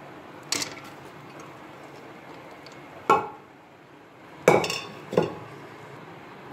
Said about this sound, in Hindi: अब इसको हमें अच्छी तरह से ग्रेवी के साथ में मिक्स करना है और चम्मच से अच्छी तरह इसको हिलाना है